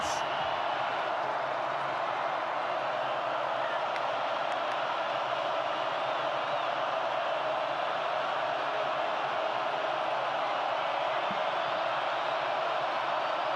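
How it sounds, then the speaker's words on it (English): Steady, distant crowd roar fills a football stadium, Carter Finley, during a Georgia Tech at North Carolina State college game, a constant wash of noise with no distinct peaks, heard alone. "And now we're seeing the crowd at Carter Finley"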